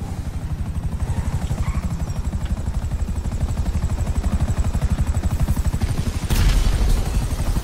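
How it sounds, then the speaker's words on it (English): A helicopter in GTA 5 story mode thumps with loud, rapid, steady rotor beats throughout. A sharp bang and a burst of louder noise come near the end. "Shit! Chopper!"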